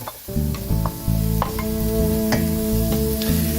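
Onion and pepper fry in a pan for a cauliflower and prawn dish, a continuous close sizzle with light stirring clicks over a steady tonal background.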